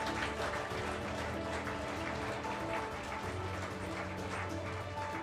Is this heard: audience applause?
yes